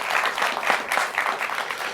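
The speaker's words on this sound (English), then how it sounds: "Round of applause for United Airlines." Audience applause for United Airlines at a Women in Aviation event hosted by Bay Area Urban Eagles, a dense, steady burst of many hands clapping close by that fills the whole moment without a break.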